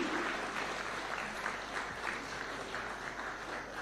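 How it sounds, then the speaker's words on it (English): Audience applause at a Taxpayers Day award ceremony at State House, a steady moderately distant wash of clapping from a large crowd, with no talking over it. "A round of applause kindly."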